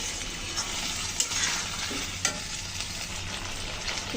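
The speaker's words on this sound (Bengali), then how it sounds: "আলু চিংড়ি দিয়ে একটু মশলার সাথে সুন্দর করে কষিয়ে নেব" Fried prawns and potatoes being sautéed with spices in hot oil, a steady sizzle with occasional stirring scrapes and clinks, close up, no talking.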